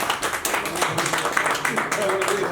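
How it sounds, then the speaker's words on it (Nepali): A clapping crowd at a roast event at a reporters' club, honouring journalists, a dense burst of handclaps that continues through the moment, mixed with people talking. "पहिला त म सबै पत्रकार साथीहरूको सम्मानको लागि एकचोटि ताली बजाउन चाहन्छु"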